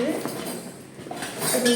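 Metal cutlery and dishes clink and clatter together in a few quick bursts, close by, with some faint background noise.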